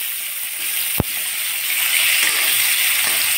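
Pangas fish fries in hot oil with a steady, bright sizzle and crackle, broken by one sharp knock partway through, then the sizzling grows a little louder.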